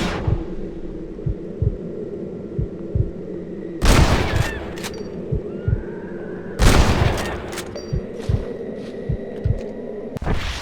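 Two loud gunshots crack out a few seconds apart during a shooting contest in Red Dead Redemption, set against a low, steady thumping beat and a background hum.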